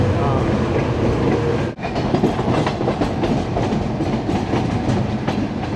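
A passenger train runs on rails on an early-morning journey during heavy monsoon rain, producing a loud, continuous rumble with a steady clickety-clack of the wheels and a brief dip partway through.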